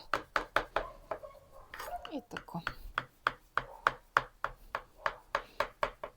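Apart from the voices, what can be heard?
knife cutting baklava into portions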